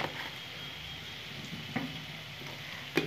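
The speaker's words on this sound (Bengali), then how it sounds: "হলুদ দিয়ে দিলাম, কাশ্মীরি মির্চি তেলের মধ্যে দেবো" Turmeric and Kashmiri chili sizzling in hot oil in a pan for a North Bengal fish recipe, a soft steady fry with a couple of sharp clinks of a utensil, quiet and close.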